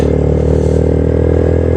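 A motorcycle engine drones steadily and loudly throughout while riding a deserted mountain road toward Thandiani, a constant close-up rumble with wind noise and no speech.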